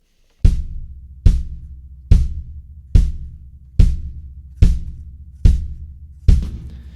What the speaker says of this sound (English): if I'm going to hit my bass drum on every single beat of the measure